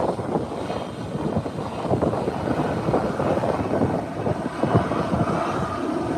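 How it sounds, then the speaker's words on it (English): A Delta airliner rolls along an airport runway as a continuous broadband roar of jet engine noise, steady and fairly loud throughout, with wind buffeting mixed in. "she's holding her distance from the aircraft Delta, which is rolling off now"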